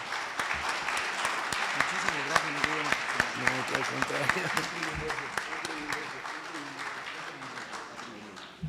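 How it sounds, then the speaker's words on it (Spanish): An audience at a conference on surrogacy breaks into sustained applause for the panel speakers, a dense patter of clapping that swells and then gradually fades over several seconds, with some voices mixed in. "Un aplauso a los ponentes, ¿no? Por favor."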